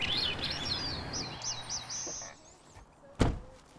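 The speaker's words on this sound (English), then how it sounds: "We call it the dawn chorus. So birds become very active just as the sun begins to rise." Songbirds at a wildlife refuge sing in the dawn chorus at sunrise, with rapid, high, repeated chirps and trills close by, then fading, before a sharp thunk near the end.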